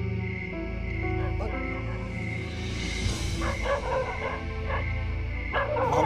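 Dogs bark and yip from inside dense bushes at some distance, partly masked by a steady low hum and other background noise.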